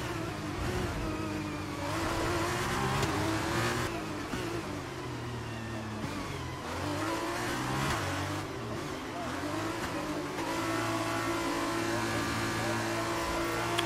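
F1 racing cars in the F1 23 video game roar steadily as a race resumes, engine pitch rising and falling through gear changes, with a voice talking over the engine noise.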